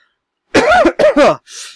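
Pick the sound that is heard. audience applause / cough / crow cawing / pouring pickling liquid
cough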